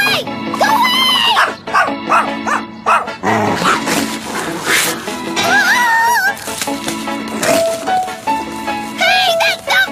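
A cartoon dog in an anime episode barks and yips in short bursts over background music, with people shouting and talking in between.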